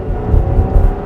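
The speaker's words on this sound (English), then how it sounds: "Yeah, the engine noise is noticeable." A 2026 Buick Enclave Avenir engine accelerating from a standstill, heard from inside the cabin as a loud, steady rising drone with no talk over it.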